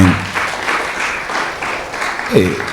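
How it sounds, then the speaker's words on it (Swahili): A church congregation applauds, many hands clapping in a loud steady burst that fills the space, with a voice speaking briefly at the start and again near the end over the clapping. "Pigie Bwana makofi mengi."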